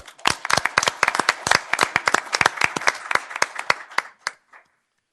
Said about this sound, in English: I'm going to ask you to get a round of applause for this team